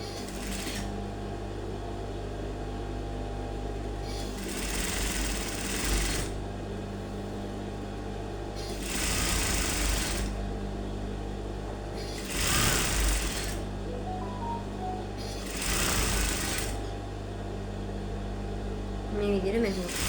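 Sewing machine stitching a crop top blouse, running in repeated short bursts of fast mechanical whirring, about six runs separated by quieter pauses, over a steady low hum.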